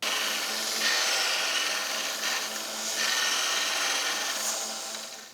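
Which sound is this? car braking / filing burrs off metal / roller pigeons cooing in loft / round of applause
filing burrs off metal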